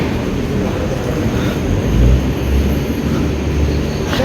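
A train arriving at Devrukh railway station in the Konkan region: a steady low rumble holds at constant loudness throughout, swelling slightly in the middle, with no talk.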